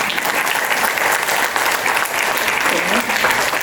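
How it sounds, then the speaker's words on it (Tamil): A large audience at the SICCI Conclave 2025 keynote bursts into loud, sustained applause, dense and steady from start to finish, with some voices mixed in. "முதல்ல உங்களுக்கே பயங்கரமாக ஒரு கைத்தட்டல் நீங்கள் கொடுத்து"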